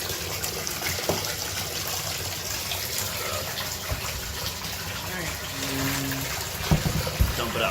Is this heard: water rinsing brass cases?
yes